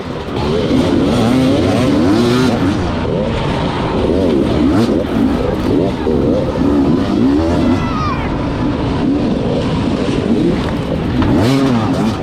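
Race cars at the start of an amateur race, the 2021 Tennessee Knockout afternoon race, accelerate together in a loud, continuous engine roar with shifting revs, close by and sustained throughout.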